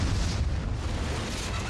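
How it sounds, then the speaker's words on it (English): A loud, sustained roaring blast as a car explodes in a movie stunt, broadband and rumbling throughout with no pause. "shooting the car as it goes by and exploding"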